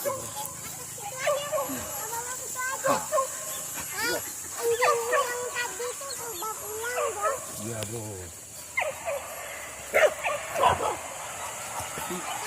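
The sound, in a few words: hunting dogs barking during a pig hunt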